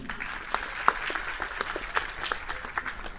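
An audience at an awards event applauds after the Mayor of Bareilly's speech, a steady patter of clapping hands from a moderately sized crowd with some louder individual claps standing out.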